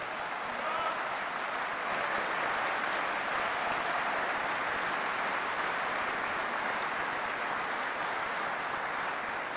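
An audience at a Department of Defense farewell address applauds in a steady, dense wash of clapping that holds at an even level from start to finish.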